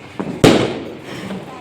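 A sharp, loud firecracker bang during Diwali rings out after a softer pop, then fades into a noisy background with a voice faintly present.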